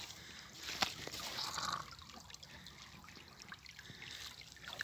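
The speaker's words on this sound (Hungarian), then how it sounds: "Itt van még egy patak." A small stream trickling outdoors in a steady, faint, close babble of running water with a few light splashes, no voices.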